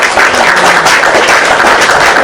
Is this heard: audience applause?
yes